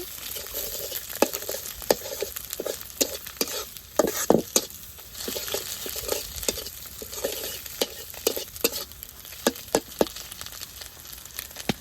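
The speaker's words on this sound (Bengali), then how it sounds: "আমার ডিমের ঝুড়ি ভাজা শেষ, নামে নেই।" Duck egg jhuri frying in a pan, a quiet sizzle broken by frequent rhythmic scraping and stirring strokes of a spatula throughout, with no one speaking.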